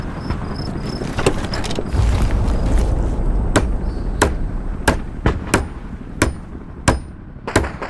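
Hammer blows on a barricade being built in the video game Hell Let Loose Vietnam, a rapid series of sharp knocks arriving after a rushing, noisy stretch, fairly loud.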